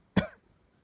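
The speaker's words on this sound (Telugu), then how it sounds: "ఈ దగ్గు వస్తుంది చూసారా" A single short, sharp cough, close and clear, standing alone with no talking around it.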